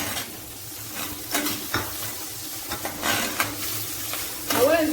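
Chopped onion sizzles and is stirred in a hot pan for seafood spaghetti, with steady frying hiss broken by scraping strokes and light clinks of utensil on pan.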